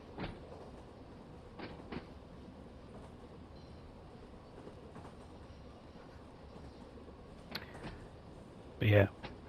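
A 1938-built Class 483 electric train on the Isle of Wight rolls into a station in Train Sim World 2, with quiet rumbling, occasional clicks and clanks, and a louder thump near the end.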